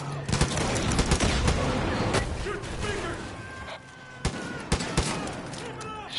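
Gunfire in Far Cry 5 aimed at loudspeakers, with dense clustered shots early, then sparser single sharp reports near the end, set against a busy game backdrop.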